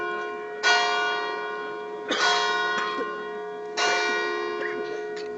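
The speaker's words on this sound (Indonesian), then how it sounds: "kita tundukkan kepala habis bel ini" A church bell at a hillside pilgrimage site rings three loud, clear strikes, each ringing on with a long, shimmering decay, heard alone.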